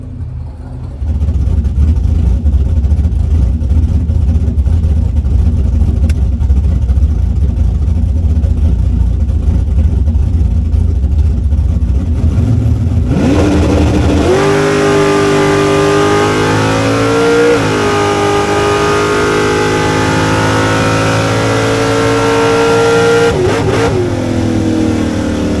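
From inside a drag race car, the engine idles with a deep rumble, then revs hard and pulls away down the strip, loud and close, its pitch sweeping upward through each gear.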